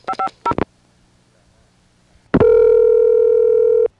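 A 1A ESS Centrex telephone line plays a few quick touch-tone dialing bursts, a short gap, then a loud steady recall dial tone held for over a second before it cuts off.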